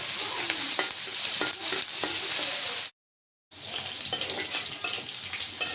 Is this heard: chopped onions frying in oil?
yes